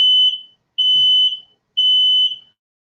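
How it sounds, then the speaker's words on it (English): A smoke alarm sounds in a kitchen during cooking, three loud, piercing, evenly spaced beeps, each about half a second long with short silent gaps between them, close to the listener, with no speech. "That was the alarm."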